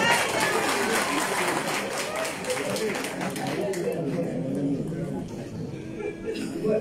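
Crowd applause at an outdoor speech gathering, steady clapping that gradually thins and fades over several seconds, with background chatter and voices mixed in.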